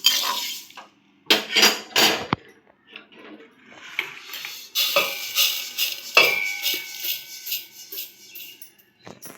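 Roasted coriander seeds scraped and poured from a kadai into a vessel, metal clanks and scrapes followed by a spill of rattling seeds, close and fairly loud, no talking.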